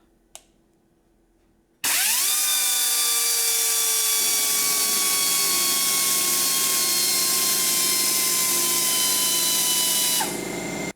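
High-torque, low-RPM die grinder spinning up and running steadily at full speed for about eight seconds, a loud, sustained whine with stable tones that drops away at the end, preceded by a brief quiet click.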